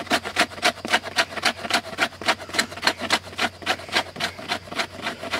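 A fiber comb scraping tinder in drawing strokes toward the user while lighting a flint-and-steel fire: a steady, close, rhythmic rasp of about twenty quick strokes with no talk.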